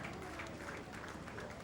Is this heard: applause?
yes